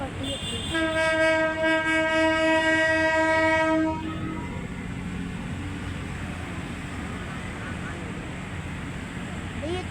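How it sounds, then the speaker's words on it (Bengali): A train passes close by, sounding a loud, sustained multi-tone horn for about three seconds before the horn cuts off. The steady rumble of the rolling cars carries on. "ট্রেন চলে যাইতে আছে।"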